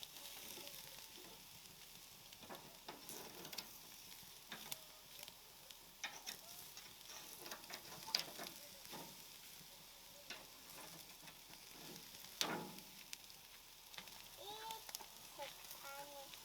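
Meat fries in a pan with a steady, quiet sizzle, broken by crackles and a few sharper spits and clatters as it is turned over.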